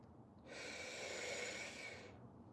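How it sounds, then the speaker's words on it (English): A forceful, sustained exhale during a breath-focused workout, a loud breathy rush of air pushed out for about two seconds, close and alone. "Push the air out."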